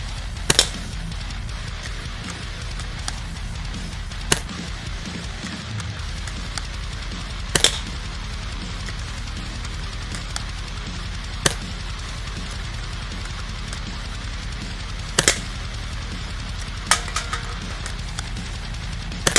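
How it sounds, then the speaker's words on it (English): A CM.701C-U airsoft rifle fires about seven sharp, isolated shots at irregular intervals, each a crisp snap standing out against a steady outdoor background. "Now let's go out and test shoot this beautiful rifle"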